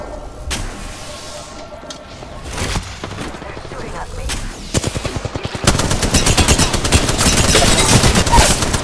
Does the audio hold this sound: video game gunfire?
yes